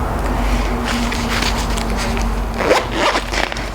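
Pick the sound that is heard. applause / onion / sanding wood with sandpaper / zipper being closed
zipper being closed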